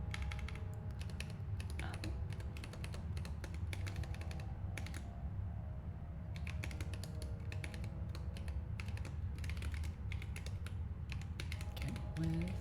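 Computer keyboard typing while coding, fast irregular bursts of close key clicks with short pauses between runs over a low steady hum, no voices.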